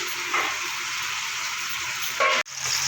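Oil sizzling and crackling steadily as bhola fish fries in a pan, a constant bright hiss with a brief clatter near the end.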